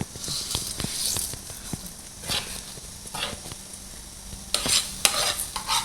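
Hot tempering poured into beetroot pachadi in a home kitchen, crackling and sizzling in sharp bursts with stirring clinks in between, close and fairly loud.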